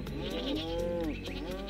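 Goats in the video game Tropico bleat in two wavering calls, one after the other, close and clear over quiet game ambience with no voices.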